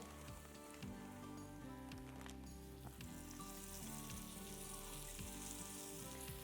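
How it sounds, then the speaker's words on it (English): Flour-coated beef stew meat hits hot oil in a pot, giving a steady, close, dense sizzle and crackle that continues throughout without talk. "Our oil is nice and hot. So go ahead and dump the stew meat in."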